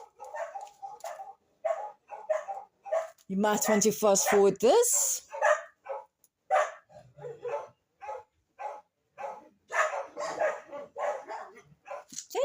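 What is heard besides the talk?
dogs barking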